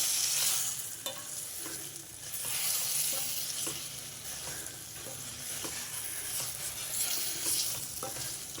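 Eggplant curry for vankaya potlam frying in oil and slowly stirred, a continuous sizzle with soft periodic scraping of the spoon against the pan.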